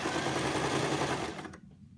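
A sewing machine runs a steady stitching line through fabric for a ruffle skirt, a close, continuous whir that cuts off abruptly near the end, leaving quiet.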